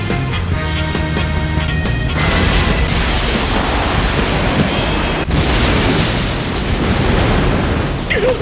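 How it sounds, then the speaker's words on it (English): Explosives detonate inside asteroid mine tunnels in an anime, a loud continuous roaring rumble that swells and keeps going, with a sharp crack partway through; no speech. "Decker used explosives in the mine tunnels"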